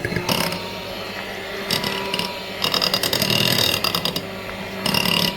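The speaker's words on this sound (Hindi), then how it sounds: "जैसे देख सकते हैं मैंने उसको अच्छी तरह से ब्लेंड कर लिया है।" An electric mixer blends Oreo cream frosting with a tablespoon of cocoa powder for Oreo cupcakes, giving a close, loud mechanical whirring that starts and stops in several bursts with short pauses between them.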